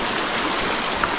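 Steady broadband rush of a river stream crossed on a forested Mt. Tanawan hiking trail with slippery rocks, continuous and close, with no voices.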